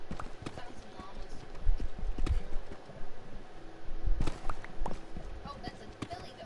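Llamas walking in Minecraft, with soft rhythmic clip-clop steps over game ambience and a voice talking throughout.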